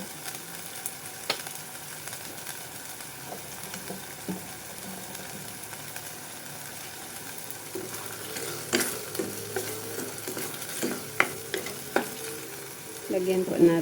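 Sardines simmering with alugbati greens in a pot, a steady low bubbling and sizzle broken by occasional stirring clinks of a utensil, growing busier and louder toward the end.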